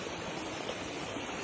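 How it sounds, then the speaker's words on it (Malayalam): Natural spring water flows steadily in a stream along an off-road hill route, a continuous broad rushing wash with no pauses and no voices. "അത്ര പ്രകൃതിദത്തമായ ഔഷധ ഗുണമുള്ള വെള്ളമാണ് ഈ ഒഴുകി വരുന്നത്."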